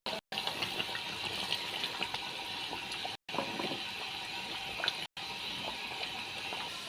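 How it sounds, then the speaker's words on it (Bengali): Water pours steadily into a pot of braised duck curry, a continuous hissing splash broken by a few brief gaps, with no voices. "আমি একদম ফাইনালি পানিটা একদম যতটুকু লাগবে দিয়ে দিলাম"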